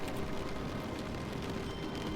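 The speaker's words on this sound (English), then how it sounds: "I think it's supposed to be rain" Continuous rain-like hiss from the office setting of The Stanley Parable video game, a steady dense wash of noise running unbroken at an even moderate level with no talk.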